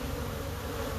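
Honey bees buzz at an opened hive during a frame inspection, a dense, steady, close swarm drone filling the moment without a break.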